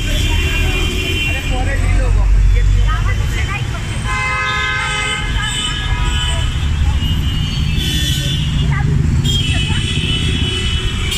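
Long, overlapping car horns honk repeatedly in dense Kolkata street traffic, loud and close, over engine rumble, with someone talking throughout.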